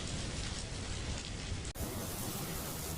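Steady, dense rain pours down continuously, a loud even hiss throughout with a brief dip partway through.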